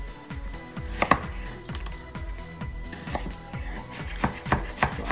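Vegetables for avocado salsa being cut into thin slices on a board, a quick, steady run of knife chops up close, each cut a sharp tap, continuing without pause.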